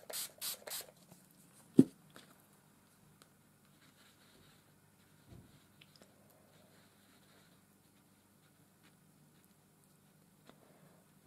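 A few quick hissing bursts from a spray bottle misting water onto paint near the start, followed by faint taps and near silence.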